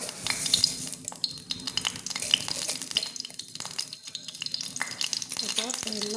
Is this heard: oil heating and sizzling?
yes